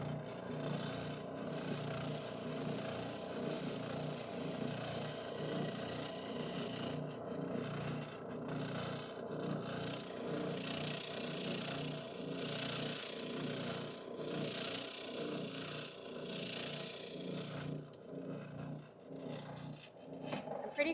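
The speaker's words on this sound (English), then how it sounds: "you want to be pushing against the direction of the rotation so that you're getting a nice, smooth, consistent push" A spindle sander grinds against a wooden workpiece with a steady, continuous rasping whir, the abrasive scrape rising and easing in loud waves as the wood is pushed along the rotating drum; no talking.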